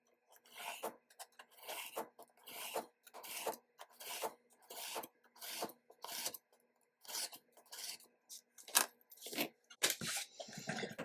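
A notepad cover board is trimmed to size with repeated rasping cutting strokes, about a dozen short bursts in a steady rhythm, close and clear against silence, with no talking.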